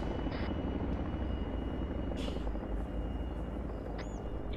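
Near and loud, a helicopter in the Arma 3 military game keeps up a steady low rotor drone throughout, with a few faint higher clicks over it.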